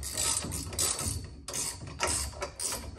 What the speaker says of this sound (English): tighten the two bolts on the interim hoop first